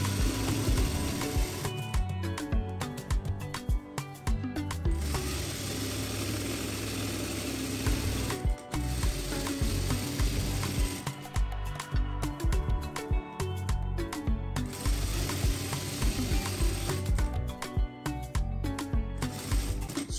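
A sewing machine stitches a hem in long, loud bursts of rapid mechanical whirring. Brief pauses between runs break the steady motor hum and needle chatter, and no one speaks.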